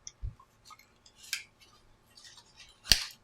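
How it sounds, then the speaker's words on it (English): Scissors snip off a piece of ribbon while a bow is being made, with a few soft handling rustles and one sharp, close cut near the end in an otherwise quiet room. "We're going to cut this piece off."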